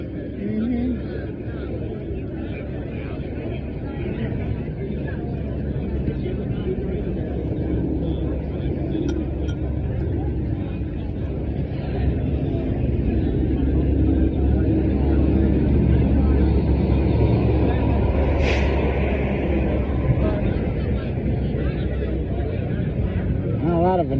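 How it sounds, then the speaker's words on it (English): Heavy industrial traffic rumbles past on a road in a steady, loud, broadband wash of engines and tires that swells slightly toward the end, with a faint tone briefly rising above it. "A lot of industrial traffic on this road right now."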